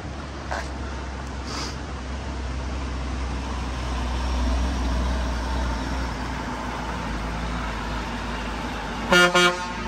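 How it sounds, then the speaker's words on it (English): A logging truck rumbles past with a low, swelling engine drone that peaks midway, then gives a loud, brief horn blast near the end, with faint higher tones earlier in the pass. "Here comes that logging truck."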